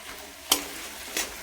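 A coconut and cumin paste being stirred into simmering sambar gives two brief, soft scraping swishes of a spoon in the pot over a faint, quiet bubbling background.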